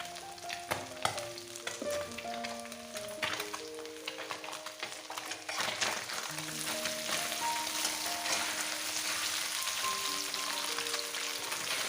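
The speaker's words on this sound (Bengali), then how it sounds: "এক সাইডে হচ্ছে মাছ ভাজা আর এক সাইডে বসিয়ে দিয়েছি চচ্চড়ি" Shrimp and fish frying in mustard paste in a pan give a continuous close sizzle and crackle, with a kitchen hum in the background and occasional stirring knocks.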